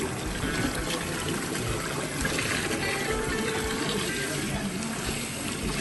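Warm water running and splashing while a cast iron enamel pot is washed, a continuous close rushing and trickling wash with faint scrubbing underneath.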